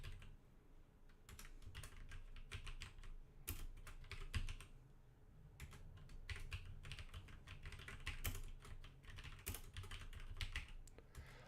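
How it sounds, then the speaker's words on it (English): Computer keyboard keys clatter in quick, irregular bursts with brief pauses, close and moderately loud, with no talking over them. "Sorry if I'm typing."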